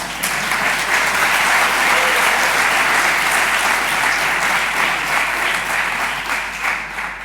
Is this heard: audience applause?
yes